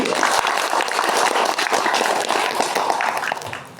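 A gathered crowd at a pendopo ceremony claps together in a sustained, dense round of applause that stays strong, then fades out near the end.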